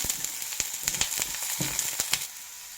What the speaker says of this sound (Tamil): கொஞ்ச நேரம் நல்லா வதங்கட்டும், வெங்காயம் கலர் மாறட்டும்